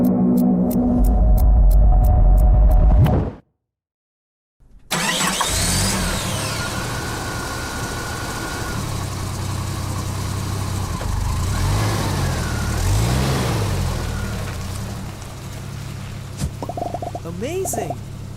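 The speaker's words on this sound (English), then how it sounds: "you're taking Eddie driving today" A car engine starts up and then runs steadily as the car drives off, a continuous mid-pitched engine drone with rising and falling revs, and voices talking over it.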